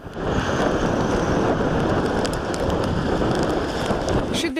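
Heavy rain pours down in a dense, steady roar, loud and close, with gusty rumble of a strong southwesterly wind underneath and no voices.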